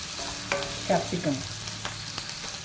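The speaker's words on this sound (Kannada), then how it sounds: "ಕ್ಯಾಪ್ಸಿಕಮ್ ಏನು ಎಣ್ಣೆನ ಒಗ್ಗರಣೆಗೆ ಹಾಕಿದ್ರೆ ಸಾಕು" Finely chopped capsicum (bell pepper) stirred into hot oil as tempering for avarekalu upma, giving a steady close sizzle with a few sharp spoon-and-pan clatters partway through.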